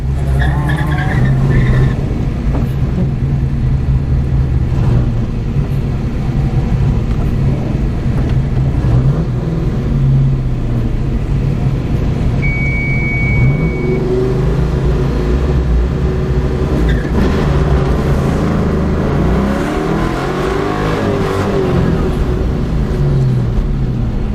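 An SN95 Ford Mustang launching from the start at a ProSolo autocross event: the engine roars and revs continuously with tire squeal and skidding, close by and sustained throughout.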